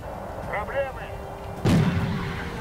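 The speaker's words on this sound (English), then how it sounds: "I believe this is a mortar. Yes, it is a mortar." A mortar fires in a Soviet war video game, a single heavy boom about midway that decays into a rumbling tail, with a voice talking briefly before it.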